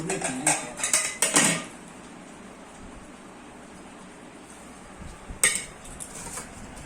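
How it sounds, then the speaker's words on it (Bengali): Hot rice served onto a plate with a spoon: a few sharp clinks and scrapes of metal against dishware at the start, a quiet pause, then another brief burst of clattering. "ভাত বাড়ছি"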